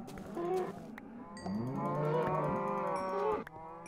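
Cows mooing in Minecraft, several drawn-out, wavering moos in close succession, loud and clear with nothing underneath.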